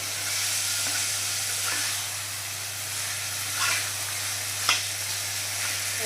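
Small pieces of chicken bhuna frying in oil in a pan: a steady, loud sizzling hiss with a low constant hum beneath, broken by a few soft scraping stirs, and no voices.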